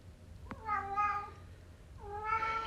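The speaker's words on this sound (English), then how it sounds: "Excuse my cat." Two drawn-out cat meows with clear harmonics, the first starting near the half-second mark and the second toward the end, close and moderately loud over a faint room hum in a home where crochet work is under way.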